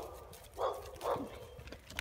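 A dog shut in a kennel gives two short, muffled barks with a whimpering edge, fairly faint and at a middle distance, followed by quieter rustling.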